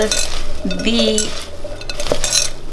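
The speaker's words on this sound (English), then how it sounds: "And so you mix it up." Food stirred and mixed in a bowl with a utensil, clinking and scraping against the sides in quick close rattles, with a brief squeaky scrape partway through.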